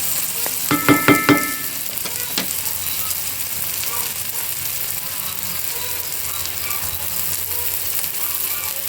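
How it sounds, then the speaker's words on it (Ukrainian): Peppers fry in a pan for Georgian kharcho, a steady soft sizzle running throughout after a short burst of sharp metallic clicks near the start. "Так, трішечки обсмажимо цей перчик."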